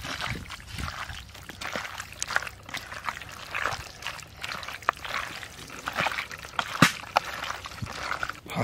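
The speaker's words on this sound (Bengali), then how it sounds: "এখন দিয়ে দেবো সর্ষের তেল" Mustard oil trickles and splashes irregularly into a clay pot holding country chicken with ginger-garlic paste, onion, tomato and whole spices. The pouring sounds are soft and uneven, with a few sharper drips.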